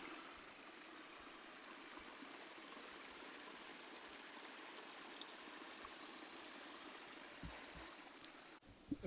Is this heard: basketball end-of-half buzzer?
no